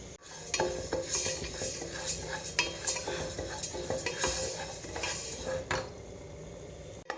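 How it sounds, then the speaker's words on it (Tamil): Moong dal roasting in a pan for Thiruvathirai kali, stirred continuously with a metal spoon, giving a rhythmic scrape and clatter over a soft dry sizzle, close and steady, with no talking. "இப்போ வந்து நம்ம எடுத்து வச்சுருக்க பாசி பருப்பை சேர்த்துக்கலாம் இதையும் பொன்னிறமாக வறுத்து எடுத்துக்கலாம்"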